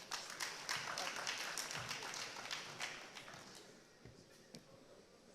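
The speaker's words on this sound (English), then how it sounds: "A round of applause." Conference audience applause at a closing plenary session as the chairman is invited to the stage. Many hands clap in a crisp, fairly close patter that gradually thins and fades out.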